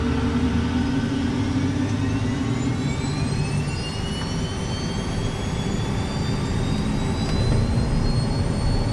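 Left jet engine of a Cessna Citation M2 with an oil leak, running steadily: a loud, constant roar and whine with high tones that slowly climb in pitch throughout, no voices.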